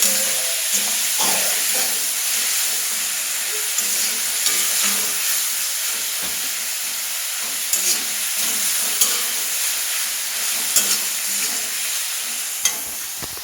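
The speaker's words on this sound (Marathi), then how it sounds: "कांदा आपला आणि टमॅटो चांगल्या प्रकारे पोळून निघाले आहेत" Onion and tomato fry and sizzle loudly in a pan for egg bhurji, with a steady hiss broken by repeated spatula scrapes and occasional clinks against the pan.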